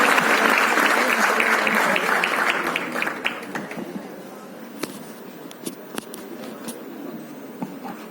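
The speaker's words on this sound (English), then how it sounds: "with all your applause, I welcome him" A large audience bursts into loud, dense applause to welcome cricket legend Sachin Tendulkar. The clapping fades after a few seconds into scattered claps and faint voices.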